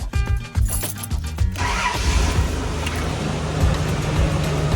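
A car fitted with a new snorkel and Holley EFI cranks with a rapid, stuttering starter rhythm for about a second and a half, then fires and settles into a loud, steady idle close by.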